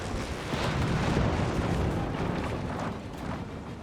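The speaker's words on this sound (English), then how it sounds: "Wrecking the 2-pounder gun command tank out here for Stephen and the German army." A 2-pounder gun command tank is destroyed in the Company of Heroes 3 video game, giving a loud rumbling burst of explosions and rolling booms under a dense roar of battle, with no voices.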